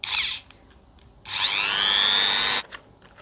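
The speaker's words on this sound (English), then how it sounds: "Since I'm gonna be using this tool to drill it, it's like a rotary tool." A handheld rotary tool drills into resin while crafting a fantasy dagger, whining in two bursts, a short one and then a longer steady high-pitched run, close and loud with quiet gaps between.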